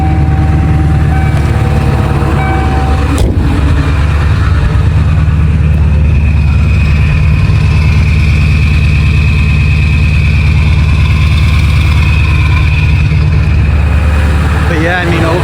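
A 7.3 Powerstroke diesel truck engine holds a steady high idle at 1100 rpm, a loud, even, low rumble running unbroken throughout, with a brief click near the start.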